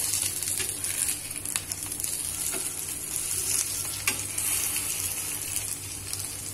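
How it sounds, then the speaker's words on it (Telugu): Poha vadas shallow-frying in oil in a pan give off a steady, close sizzle that runs the whole time with no break, along with faint crackles and small spatters. "రెండో సైడ్ కూడా బాగా కాల్చుకోవాలి. కొంచెం ఆయిల్ అనేది యాడ్ చేయాలి."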